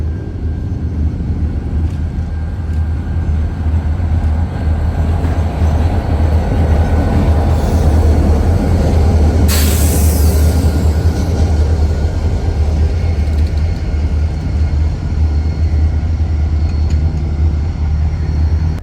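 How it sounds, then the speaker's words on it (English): CN local train locomotives running around their train near Burlington, Wisconsin: a loud, steady diesel rumble and engine drone rolling past close by, with rail clatter and a short high hiss midway, no voices. "Here we see the local power running around their train after serving PCA."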